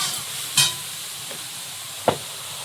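Water poured into a pan of frying greens with shrimp hisses sharply, with a quieter stirring clatter and another brief burst of sizzle against a steady low background.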